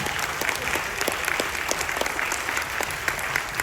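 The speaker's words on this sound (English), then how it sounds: "Let's give him a huge hand." Audience applause for a veteran at a military appreciation event on a carnival cruise, steady dense clapping from a crowd, sustained and fairly close throughout with no speech over it.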